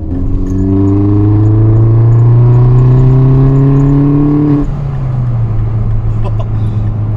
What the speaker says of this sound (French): C'était la dump valve là qui s'est activée.